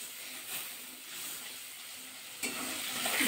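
Cumin, ginger and Kashmiri chili paste hitting hot oil in a pan for a Bengali brinjal curry, giving a steady close sizzle with brief stirring sounds and a sharper surge of hiss near the end, no talking.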